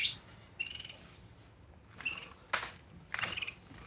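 Budgerigars chirp and tweet in short, high bursts scattered over a quiet background, fairly soft and irregular.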